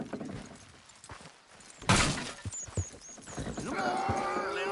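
Game horses straining at a pull in Red Dead Redemption 2, heavy thumps and shuffling hooves, a sharp thunk midway and a whinny at the end, with faint voices underneath.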